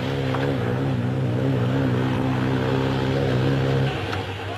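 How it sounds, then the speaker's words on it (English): Peugeot 205 Turbo rally car at the 1985 Safari Rally, a loud steady engine drone holding constant revs for about four seconds before easing off at the end, with no talk over it. "Timo Salonen in the first of the Peugeot 205 turbos."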